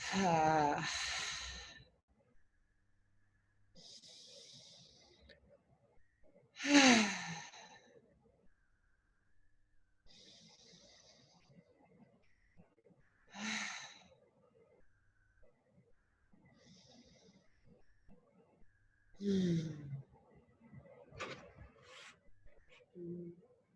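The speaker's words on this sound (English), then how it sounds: "inhale through the nose, audibly exhale out the mouth" Audible exhales out through the mouth during a guided breathing meditation, several soft breaths spaced several seconds apart over near silence.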